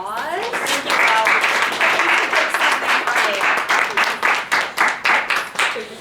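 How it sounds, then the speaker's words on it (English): An audience at a CUNY peace and justice summit on mental health stigma claps in sustained applause that grows dense, then thins into scattered individual claps as it fades. "So let's have a round of applause."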